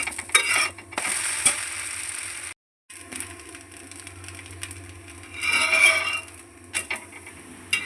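Dosa made from sprouted fenugreek seeds frying in oil on a pan, with a steady low sizzle under scraping and clattering as a spatula turns it over, one brief silent gap partway through.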